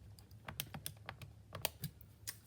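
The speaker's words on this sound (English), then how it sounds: "I'm just going to go ahead and type them in." Quiet, close typing on a computer keyboard, a steady run of irregular light key clicks with no other sounds.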